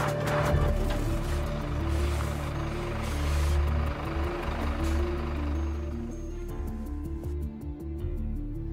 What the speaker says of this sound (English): Now let's consider stopping a fully laden truck.